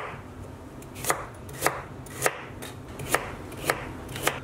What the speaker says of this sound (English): all we want to do is just thinly slice our carrots